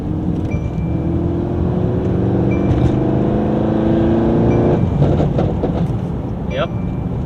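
Porsche 911 Turbo S accelerating at full throttle, a loud in-cabin engine drone with a rising turbo spool whine that climbs steadily for several seconds, then eases, as people talk.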